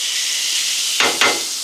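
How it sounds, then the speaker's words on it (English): Bacon sizzles loudly and steadily on a Blackstone griddle, a bright continuous hiss broken by two quick louder bursts near the end. "Gotta love the sound of that sizzle."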